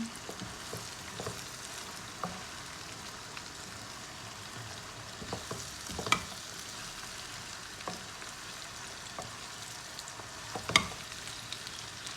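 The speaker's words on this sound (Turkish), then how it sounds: "şöyle bir kavuruyorum" Peas sauté in a pan with a soft, steady sizzle, quiet and close, with occasional light clicks and scrapes from stirring.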